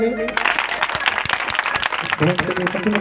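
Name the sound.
congregation clapping hands at prayer meeting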